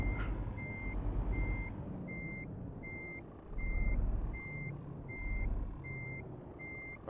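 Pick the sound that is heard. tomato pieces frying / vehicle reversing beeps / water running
vehicle reversing beeps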